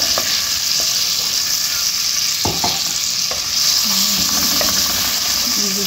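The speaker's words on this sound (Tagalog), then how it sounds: "Gisa-gisa lang natin, guys, hanggat mag golden brown." Minced garlic sautéing in a pan while cooking squid adobo: a loud, steady sizzle and hiss with occasional scrapes and clinks of stirring.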